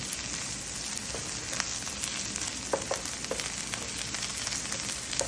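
Tomato paste is stirred into a filling frying in a pan, with a steady close sizzle and crackle and light scrapes of the stirring utensil.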